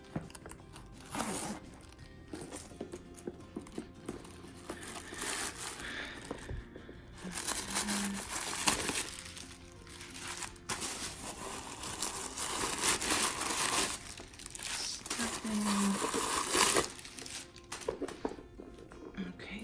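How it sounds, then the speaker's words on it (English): A Michael Kors crossbody bag with a gold zipper and gold chain is unzipped and handled, giving repeated zipper runs, crinkling packaging and rustling over several seconds, while someone talks in between. "Let's open the bag up."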